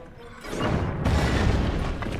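A cannon fires in The Legend of Zelda: Tears of the Kingdom, two deep booming blasts in quick succession, the second louder, with a rumbling tail and no talking.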